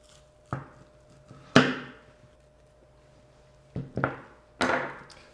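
A knife and cleaver work through a beef rib to cut boneless ribeye steaks, giving a few sharp, separate chopping thuds with quiet gaps between them, close and fairly loud.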